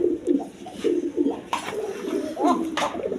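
A pair of Arabian pigeons coo nearby in repeated low rolling phrases, with a couple of brighter bursts in between and no speech over them.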